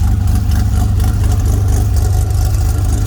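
A carbureted 1981 DeLorean engine idles steadily through an open catless exhaust with a deep, even rumble that holds constant throughout, close by and loud, no voices.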